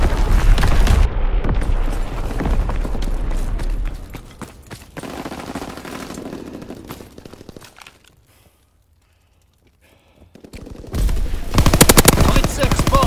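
Heavy gunfire and booming mortar rounds in a WW2 video game, loud and dense at first, thinning out and dropping to near silence midway before another loud burst returns at the end.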